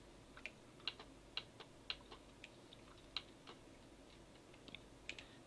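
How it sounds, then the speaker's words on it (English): Sharp, loud clicks from a worn computer mouse, joined by keyboard taps, come close to the mic in an irregular string of about a dozen, over a quiet background during MechWarrior Online play. "I apologise for the loud mouse clicking."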